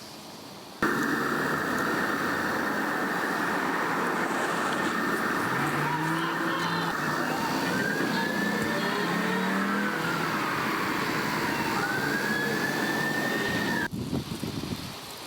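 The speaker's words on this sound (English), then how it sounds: "That SUV broke the barrier at Boston Avenue and drove recklessly through the crime scene" An SUV breaking through a barrier and speeding recklessly through a blocked-off crime scene on a city street, a loud continuous engine roar with rising revs and high tire squeals, no talking.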